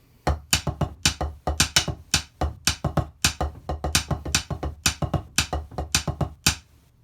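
A short marching tenor drum passage of sharp, close hits in a lively pattern, each stroke punchy and distinct, repeating through three bars.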